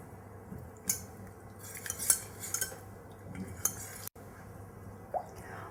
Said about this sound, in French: on va mélanger le tout à l'aide d'un fouet jusqu'à obtenir une consistance brillante et une pâte homogène